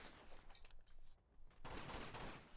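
Faint, distant gunfire in Uncharted 2: Among Thieves, scattered shots and a brief rattling burst near the end, quiet and brief.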